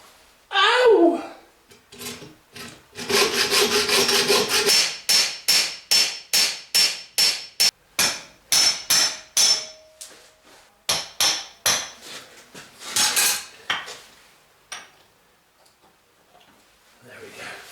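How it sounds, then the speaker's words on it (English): Repeated metal hammer blows on a chisel or centre punch, working a snapped bolt loose in a vise while building a CBR600 beach racer; a steady run of sharp close strikes with brief pauses and a short vocal cry at the start. "it's over to the vise and undo it with chisel or centre punch"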